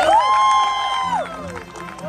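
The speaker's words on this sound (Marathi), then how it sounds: "एकदा जोरदार टाळ्या होऊन जाऊ दे शंतनूसाठी." An audience applauds host Shantanu Rangnekar at the Kokan Sanman 2025 event, a steady crowd clapping with some cheering and a sliding whistle-like tone over it.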